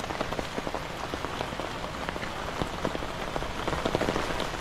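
Steady rain pattering on a hard surface at a vegetable farm, with dense drops tapping continuously throughout; no voices.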